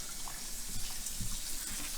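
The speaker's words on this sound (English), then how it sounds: "I'm moving the faucet handle just tiny, tiny increments." Rinse water running from a home faucet while developing slide film, a continuous soft splashing hiss with small gurgles, fairly quiet and steady.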